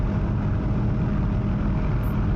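Steady propeller aircraft engine drone in flight in the DCS flight simulator over a Normandy map, a continuous loud low rumble with no pauses.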